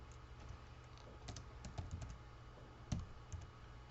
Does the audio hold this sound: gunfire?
no